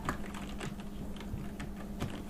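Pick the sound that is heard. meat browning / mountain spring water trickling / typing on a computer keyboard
typing on a computer keyboard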